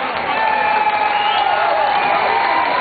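Crowd cheering and applauding at an outdoor Keti Koti festival concert in Oosterpark, Amsterdam, after an orchestra performance; a steady, loud wash of clapping and whoops with a few whistles throughout.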